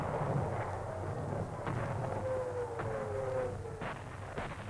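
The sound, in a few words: bombardment explosions of high explosive on enemy forces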